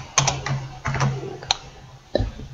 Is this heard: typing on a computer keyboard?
yes